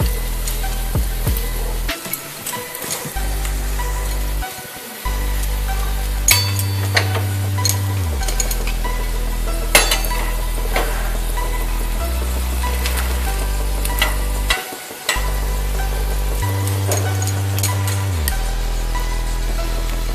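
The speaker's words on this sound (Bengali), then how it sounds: "আমি মোগলাইটা খুব আস্তে আস্তে তেলের মধ্যে ছেড়ে দেব" A folded Mughlai paratha fries in hot oil in a pan, giving a steady bubbling sizzle with occasional utensil ticks, heard under loud background music.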